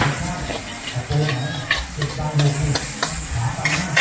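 Pad thai stir-fries in a wok at a busy street stall, with a dense, steady sizzle and the repeated scrape and clatter of the spatula against the pan.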